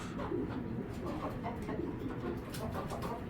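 An old-breed silver jira pigeon coos close by in soft, repeated low murmurs over a steady background hum.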